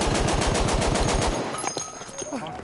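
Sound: gunfire in a video game

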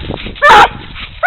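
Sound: coon dogs barking

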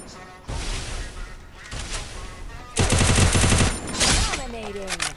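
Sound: gunfire in Free Fire video game

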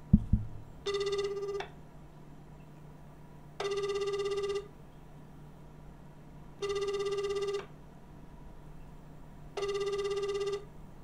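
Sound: telephone ringing while placing a call

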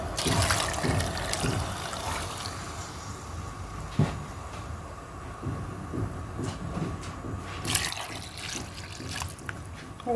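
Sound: water being poured into the cooking pot

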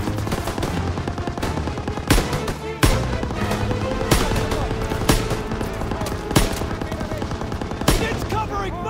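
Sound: machine gun fire in video game Call of Duty WWII

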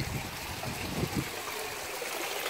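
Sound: water running from a pond filter into an IBC tank

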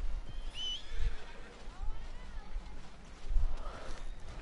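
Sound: horse whinnying in the video game Red Dead Redemption 2

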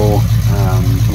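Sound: 1979 Chevy square body V8 idling rumble, open headers, no mufflers

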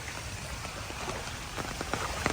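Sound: heavy rain falling

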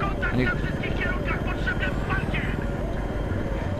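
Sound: helicopter flying in video game Battlefield 3

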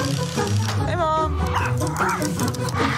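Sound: animated dragon barking and panting like a dog, Pixar Onward trailer

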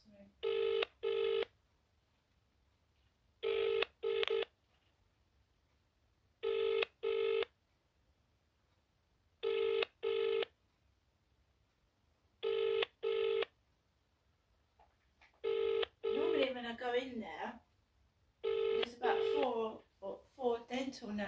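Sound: telephone ringing unanswered

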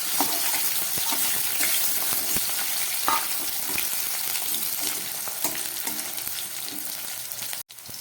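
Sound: sliced bitter gourd frying in hot oil in a wok

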